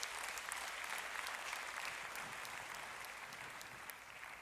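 Sustained applause from a church congregation at a worship service, many hands clapping in an even, dense wash that eases slightly toward the end, with no voices on top.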